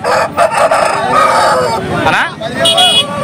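A 10-month-old rooster weighing over 3 kg crows loudly and close by at a poultry market, a drawn-out call with clucking around it, while a person speaks over part of it.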